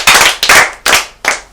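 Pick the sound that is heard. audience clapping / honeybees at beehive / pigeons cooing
audience clapping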